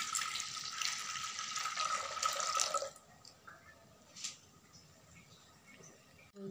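Milk pours into a clay pot, a steady liquid splash for about three seconds that then stops, followed by a few faint knocks and small clinks in a quiet kitchen.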